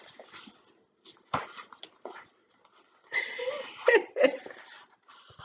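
A dog gives a few short, sharp barks followed by whimpering and wheezy whines, fairly quiet with silent gaps between bursts.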